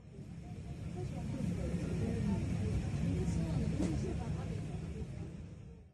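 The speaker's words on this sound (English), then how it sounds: "The sound you just heard was an Egyptian train leaving the station" An Egyptian train pulls out of a station with a steady, broad rumble and hiss that swells and then fades. Faint higher tones come through midway.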